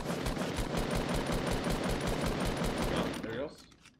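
Rapid automatic gunfire from the Fortnite video game fills the clip, a dense steady rattle of shots that holds loud and continuous for over three seconds before cutting off abruptly, with faint voices underneath.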